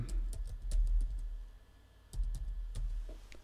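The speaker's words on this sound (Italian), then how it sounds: "mi chiede la password che vado a digitare" A password is typed on a computer keyboard, heard as a sparse run of soft, close keystroke clicks with a short pause midway, over a low background hum.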